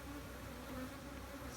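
Honey bees buzz around an open hive during a hive split, a faint, steady, droning hum with several overlapping wingbeat tones and no talk.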